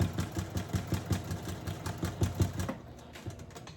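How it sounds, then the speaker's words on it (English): Sewing machine back stitching around an upcycled tote bag made from fabric scraps, a rapid, steady mechanical chatter of the needle running close and fairly loud for most of the stretch, then slowing and quieting near the end. "So I'm going to give it another back stitch, and now I'm at the point of beginning"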